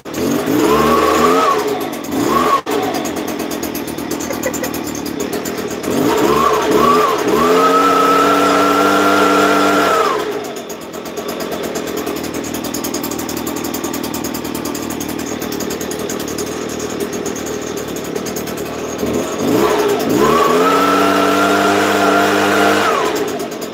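A BG86C gas leaf blower's small two-stroke engine runs steadily close by, revving up sharply several times before settling back to a buzzing idle, loud throughout.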